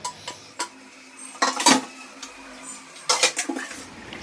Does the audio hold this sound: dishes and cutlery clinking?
yes